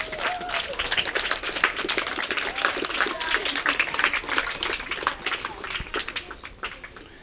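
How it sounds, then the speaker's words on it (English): A school sports audience gives athletes a big round of applause, dense sustained clapping from many hands with crowd murmur, fairly distant and even throughout. "I want you to give all of your athletes a big round of applause"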